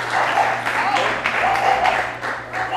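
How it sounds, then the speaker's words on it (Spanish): An audience claps at a talk, with dense, continuous applause filling nearly three seconds and a voice faintly audible beneath it. "Bueno, un aplauso."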